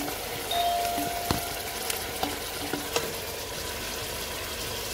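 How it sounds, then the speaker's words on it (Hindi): Marinated mutton goes into frying onions for a white korma, setting off a steady hiss with a few light clinks of a spoon against the pot, moderately close and without speech. "अब हम इसमें गोश्त डाल लेते हैं जो हमने मैरिनेट करके रखा हुआ था।"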